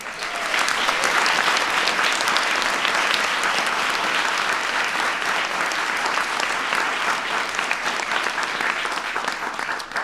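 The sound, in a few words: audience applause at a science fair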